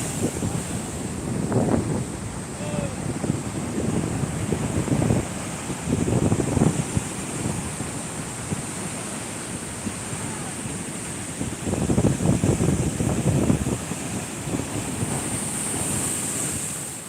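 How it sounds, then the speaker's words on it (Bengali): Sea waves at Shankarpur beach in the evening, a continuous roar of surf with swells rising and falling, heavy wind buffeting the microphone throughout. "উত্তাল সমুদ্রের যে ঢেউ দেখানোর জন্য দেখো"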